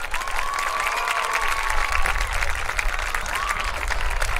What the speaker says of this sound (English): Let's give all of these fine young people a big round of applause tonight.